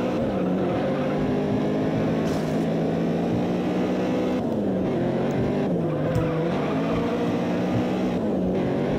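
Race car engine boosted by nitrous in the racing game Juiced: a steady, loud high-revving drone that shifts pitch as it accelerates, with occasional tire squeals and skids cutting through.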